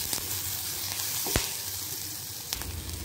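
Bajji chillies sauté in a hot pan for a mild chilli chutney, giving a steady, close frying sizzle throughout with a couple of sharp utensil clinks and no talking.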